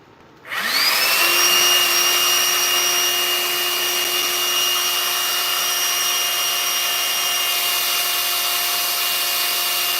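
A Hoover Linx vacuum nozzle motor clicks on and spins up into a steady, loud whine with sustained tonal hum, running alone close by.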